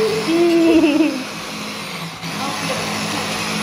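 A kitchen blender grinding biscuits into fine powder for a magnolia dessert, a loud steady motor whir that drops in level partway through and keeps running, with a brief high voice near the start.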